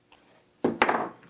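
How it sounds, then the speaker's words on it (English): A couple of faint taps, then two sharp woody thumps as a mortise punch is driven into wood to punch out a square hole, close and brief. "mortise punches and just punch it out."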